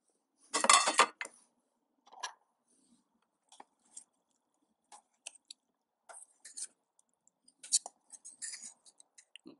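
Rice cooking in a pot outdoors in the bush is checked, with a loud lid scrape and clatter at the start followed by scattered light clinks and taps of metal utensils against the pot, nearby and with no talk.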